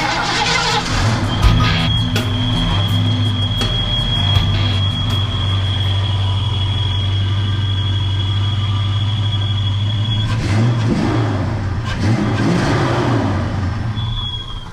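Ford Mustang Foxbody engine idling steadily after an injector swap, a loud continuous low rumble with a high whine running through most of it and a couple of brief revs near the end.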